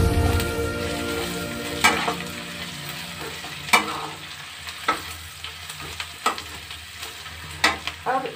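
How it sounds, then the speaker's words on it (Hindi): Onion frying with kasuri methi while broccoli sabji is being made, a steady low sizzle broken by sharp scraping stirs of a spoon in the pan every second or so, close by with no talk. "प्याज मेरा हल्का मरक चुका है, अब मैं इसमें कसूरी मेथी डालूंगी"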